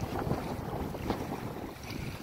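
Wind gusting and river waves slapping around a boat on the Brahmaputra, a faint rushing, buffeting wash with low rumbling wind noise throughout.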